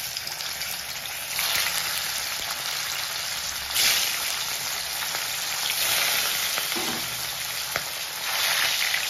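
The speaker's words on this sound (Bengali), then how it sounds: "তেল একেবারেই গরম হয়ে গেছে, আমি মাছগুলো দিয়ে দিচ্ছি।" Katla fish pieces sizzle in hot oil, a continuous close crackling hiss that swells in waves as more fish goes in, with no talking.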